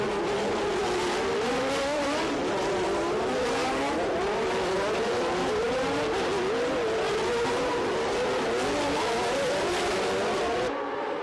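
Formula One cars race at Monaco in 1989, a Brabham among them, their high-pitched engines screaming continuously and loudly as they rise and fall through gear changes, with no break in the noise.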